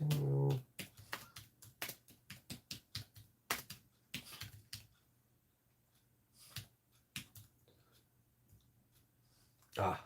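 Typing on a computer keyboard, heard as irregular bursts of sharp clicks in quick runs with pauses between, fairly close and moderately quiet, with no talk over it.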